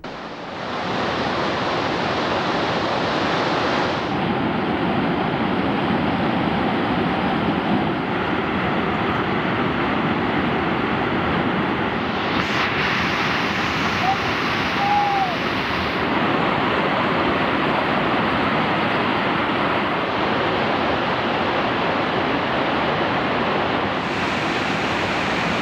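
Flooded Kumbakkarai waterfall at the foot of the Western Ghats roars with rushing water, a loud, unbroken broadband torrent lasting the whole stretch with no talking.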